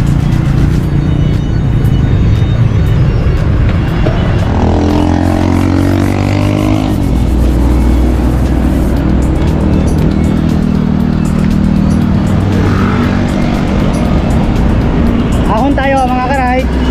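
Heavy road traffic on a morning motorcycle ride through Bulacan, Philippines, makes a loud, continuous roar of engines and wind, with vehicles passing close by throughout.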